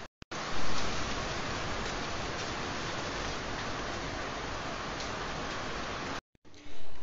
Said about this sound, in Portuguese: E aqui começou a chover, gente, tá? Chuvarada danada.